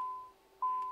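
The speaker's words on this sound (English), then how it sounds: "now we'll get this alarm here" A steady electronic cockpit alarm tone in a Cessna CJ4 business jet in Microsoft Flight Simulator 2020, quiet and continuous, briefly dipping before returning slightly louder.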